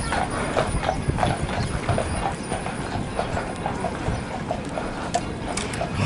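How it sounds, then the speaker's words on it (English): Rhythmic hoofbeats clip-clop along steadily over a constant rumbling background at Greenfield Village, as if horses pull something past at a walk. "Oh, look at the pretty horses."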